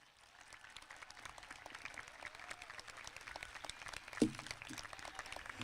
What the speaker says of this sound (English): please join me in a round of applause for such an amazing, dedicated faculty and staff